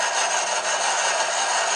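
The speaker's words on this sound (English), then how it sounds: "you've slowed the lathe down to consistent, and you're still moving, and you're taking a big cut" A wood lathe taking a large hollowing cut with a Clark deep hollowing system gives a loud, continuous rushing scrape, close and steady with slight pulsing, and no speech.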